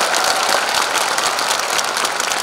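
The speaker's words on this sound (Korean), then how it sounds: "박수를 크게 한번 주시기 바랍니다." A large audience at the launch ceremony of a political forum in Gwangju applauds with dense, continuous clapping that stays loud and even from start to finish, with no talking over it.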